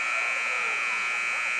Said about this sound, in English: it was right at the buzzer